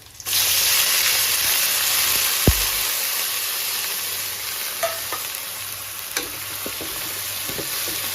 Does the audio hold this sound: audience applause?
no